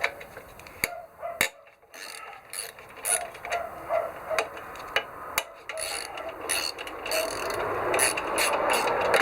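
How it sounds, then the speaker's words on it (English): A ratchet undoes the bolts holding the Pricol brake caliper to the fork leg of a Royal Enfield UCE motorcycle, with repeated close clicking bursts and short pauses between, no speech. "I'm going to undo the two bolts that hold the caliper to the"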